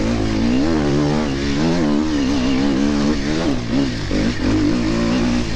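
A 300 enduro dirt bike revs hard and continuously on a sprint enduro course, its engine note rising and falling with the throttle, loud and close throughout.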